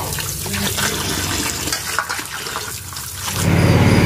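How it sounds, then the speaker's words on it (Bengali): Radishes being washed under a running tap, a steady close splash and gush of water that grows fuller and louder near the end, with no voices. "তো তোমরা আমি এই যে এগুলো একেবারে ধুয়ে নেবো"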